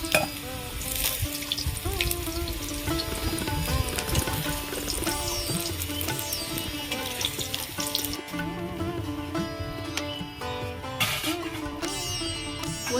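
Something is frying in hot oil while cooking, browned until deep red, giving a steady crackling sizzle that runs throughout with clinks and stirring sounds over faint background music.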